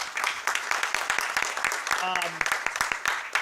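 Applause from a council meeting audience for Dowlings, scattered claps rising through a murmur of crowd noise, with a brief voice partway through.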